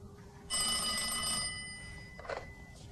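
A telephone bell rings once in a bright, sustained burst lasting about a second, moderately loud indoors, followed by a quiet pause and a faint clatter.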